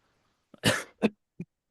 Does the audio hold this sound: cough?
yes